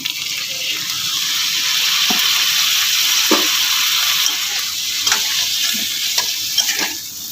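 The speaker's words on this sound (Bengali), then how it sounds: "যেহেতু শুকনো মশলা সেই জন্য আমি একটু জল দিয়ে দিচ্ছি" Dry ground spices (cumin, coriander, red chili powder) sizzle loudly in a pan after a splash of water for a Bengali vegetarian beet, carrot, cauliflower and pea dish, a steady hiss broken by a few soft stirring knocks.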